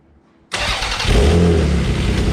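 A minivan-swapped Toyota MR2 SW20 engine cranks briefly after a moment of quiet, then catches and starts, settling into a loud, steady run close by.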